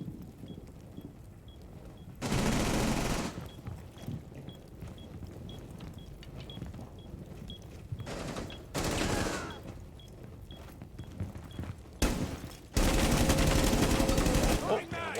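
Gunfire shot through a wall in the tactical shooter Rainbow Six Siege on the Favela map, several loud rapid bursts separated by quieter stretches of game ambience, with faint talk in between.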